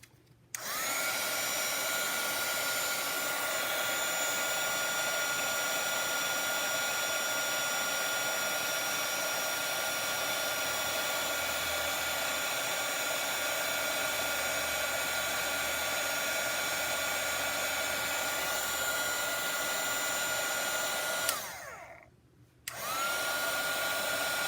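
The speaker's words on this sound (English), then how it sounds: "And now I'm going to heat set these little leaves." A heat embossing tool blows a steady, loud whirring hiss at close range while it heat-sets gold foil leaves, running for about twenty seconds before it cuts off briefly and restarts.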